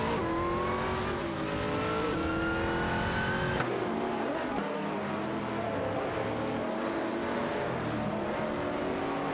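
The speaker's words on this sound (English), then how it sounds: "The Aston Martin DBRS9 and the Dodge Viper GT2cc are really going at it." An Aston Martin DBRS9 and a Dodge Viper GT2 race wheel to wheel in a video game, engines revving and shifting loudly with rising and falling pitch and brief tire squeal, a continuous close roar.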